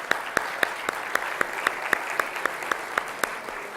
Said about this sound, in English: I think you should applaud yourself for doing the summary.